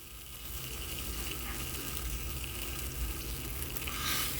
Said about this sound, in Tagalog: Yan, gisa ako ng sibuyas, bawang.